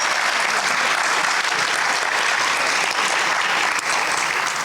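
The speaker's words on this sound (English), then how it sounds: "Another round of applause for Dr." Sustained audience applause fills a museum event hall, dense and steady from start to finish without pause, with no voices rising above the clapping.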